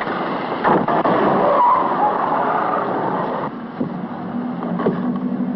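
A car drives steadily with a constant engine and road rumble, a few small bumps and clicks along the way, and no talking.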